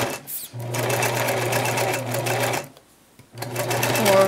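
A sewing machine runs a zigzag stitch on fabric for a drawstring bag, a loud steady mechanical whir in two long bursts with a short pause between them.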